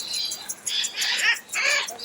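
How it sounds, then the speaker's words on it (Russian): Parrots at a feeding spot near Iguazu Falls give a few sharp, close squawks and chirps in quick bursts, with brief pauses between calls. "Сюда приходят кормить попугаев"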